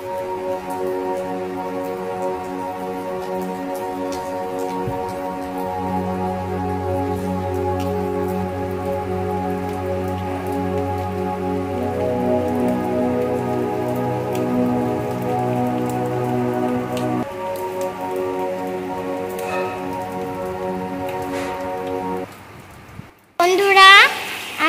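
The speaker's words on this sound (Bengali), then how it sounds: "তো বৃষ্টি কিন্তু অনেক জোরে পড়ছে, দেখুন রাস্তা ভিজে গেছে।" A heavy downpour pours onto a street outside a window, a steady loud wash of rain that holds evenly before a sharp louder burst at the very end.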